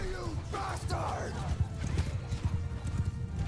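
Horses galloping in the Bannerlord video game during a cavalry battle, a steady patter of hoofbeats with a brief whinny, mixed with battle noise and a voice speaking briefly over it.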